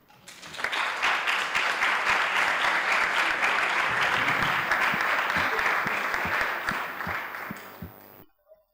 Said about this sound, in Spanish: le vamos a dar un aplauso de bienvenida